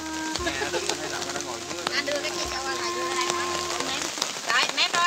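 Heavy rain pours steadily beside the Phú Trị stream in Hoài Ân, a dense hiss filling the whole clip, with a faint bird call and voices talking underneath.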